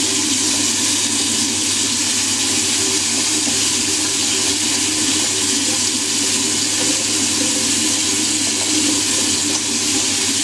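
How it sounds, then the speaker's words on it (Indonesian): A tap runs steadily while hands are washed, a loud, continuous rush of water with no talk. "Bentar, cuci tangan dulu."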